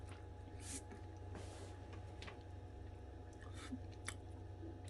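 A dog chews a veggie burger up close, with soft wet bites and squishy mastication in irregular bursts over a low background hum.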